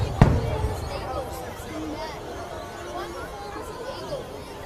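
Fireworks over Dee Why Beach in Sydney, with one sharp boom near the start and then a steady murmur of crowd chatter and excited voices as the display continues.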